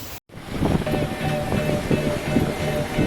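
Strong wind of about 26 knots buffets a sailing boat off the Azores, roaring steadily against the microphone over rushing surf after a brief cut at the start.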